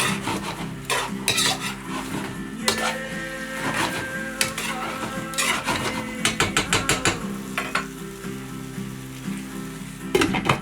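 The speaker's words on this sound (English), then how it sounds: "smell the sesame oil, and then in your bean sprouts. Then I stir around." Bean sprouts stir-fried in sesame oil in a pan, with steady sizzling and repeated scraping and tossing strokes that come in clustered bursts, close and fairly loud, and no voices.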